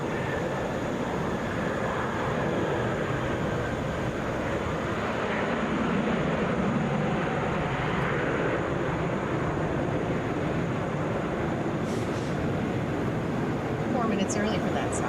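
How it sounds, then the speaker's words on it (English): A Southwest Airlines Boeing 737 airliner at Atlanta International Airport gives a steady, broad jet roar that holds at a constant level throughout, with no talk over it. "this is Southwest Flight 1903, coming from Richmond, Boeing 737"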